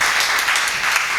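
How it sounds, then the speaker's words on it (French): An audience at a literary television broadcast applauds the authors, loud close clapping with crisp hand claps that stays even throughout the short burst. "nous aimons que vous applaudissiez nos auteurs."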